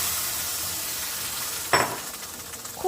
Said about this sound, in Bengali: এবার সেদ্ধ করা ডাল আর আলুটা দিয়ে দিলাম